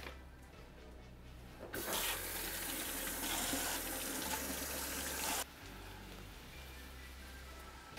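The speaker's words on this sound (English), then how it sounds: "I'm just going to rinse off these mushrooms, chop them up, and throw them into the pan" Tap water runs steadily into a kitchen sink while mushrooms are rinsed, a loud continuous gush lasting several seconds, then stopping, with quieter kitchen background on either side.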